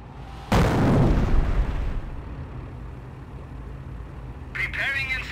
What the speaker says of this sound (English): Preparing incendiary rounds. Continue to barrage the enemy squad until they are defeated.